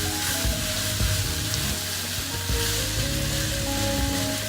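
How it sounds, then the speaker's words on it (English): A stick of margarine melts in a hot pan with a constant loud, close sizzle and crackle, steady throughout with no talk. "I'm gonna go ahead and use that stick of margarine and get that to"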